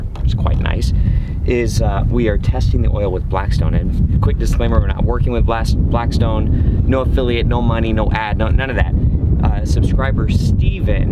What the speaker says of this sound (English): sorry about the wind, it is so windy out here.